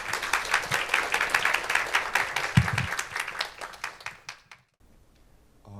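Applause from a conference audience greets a battery startup's chief executive coming up to speak at a climate-technology investment forum. A dense, steady clapping of many hands fills about four seconds, then fades out and leaves near silence.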